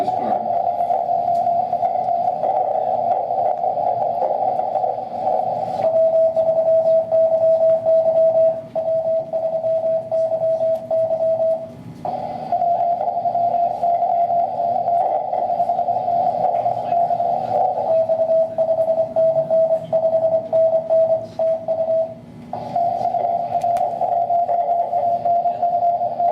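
Recorded Morse code from a ham radio contact: a steady tone keys on and off in rapid dots and dashes over a hissing radio background, with brief pauses between groups, fairly loud throughout.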